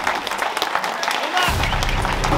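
Audience applause at a behind-the-scenes fight event, a dense crowd of clapping that swells and grows louder partway through, with cheering voices mixed in.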